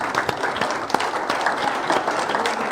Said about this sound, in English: Give them a big round of applause one more time.